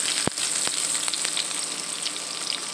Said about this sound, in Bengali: এবার দিয়ে দিলাম তেজপাতা কেটে রাখা পেঁয়াজ কুচি